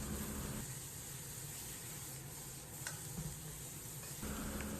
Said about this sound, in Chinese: 放入炸好控油的千叶豆腐，开大火快速翻炒